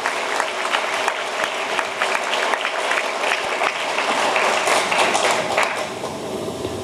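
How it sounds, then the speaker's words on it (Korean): Dense, sustained applause from a large audience at a lecture on rule-of-law democratization and criminal investigation reform, steady and loud throughout with many overlapping claps and no pause. "박수 한번 크게 한번 해주십시오"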